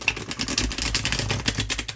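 Lo Scarabeo Ghost Tarot cards being shuffled by hand, a dense, steady run of crisp papery flicks and clicks from stiff cardstock, close and fairly loud, with no talking.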